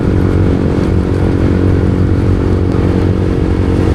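Loud, steady motorcycle engine drone with a constant throb and rushing air noise, heard up close while riding in light rain.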